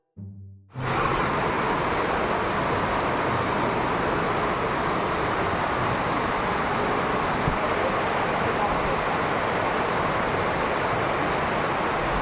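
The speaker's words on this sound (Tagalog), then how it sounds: "grabe ang ulan sa ngayon no" Heavy rain pours down in a dense, unbroken roar that begins abruptly after a moment of quiet and holds steady and loud throughout, with no clear speech over it.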